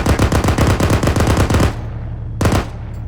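Machine gun fire in a military video game at an airfield, a loud rapid burst of about a dozen close shots, then a pause and a short two-shot burst.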